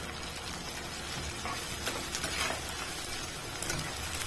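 Tomato paste sizzles in a pan with spices for a Kokani chicken shikori salan, a steady crackling hiss with faint ticks and stirring scrapes throughout, fairly close and without voices.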